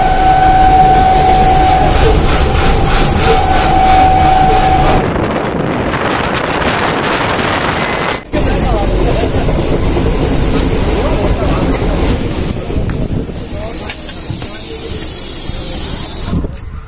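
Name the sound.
train ride, rail wagon clickety-clack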